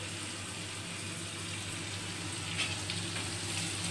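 Vegetables and sliced garlic greens fry in a hot pan for hot and sour corn, a steady loud sizzle that holds throughout with a slight rise as the pan is tossed.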